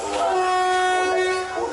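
A train on the Mok Khiri Ratnikhom line rumbles close by with a sustained horn blast, loud and continuous for a brief moment.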